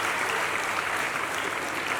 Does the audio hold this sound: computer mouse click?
no